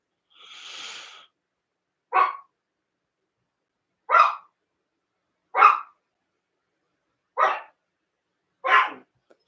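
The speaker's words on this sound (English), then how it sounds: "whenever I'm on the internet, he likes to bark, and then the moment I close this, he'll stop barking" A dog barks five times in short, evenly spaced bursts about every one and a half seconds, close and fairly loud, after a brief breathy rush of noise at the start.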